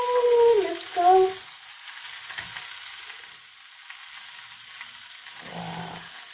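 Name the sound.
French toast frying in a pan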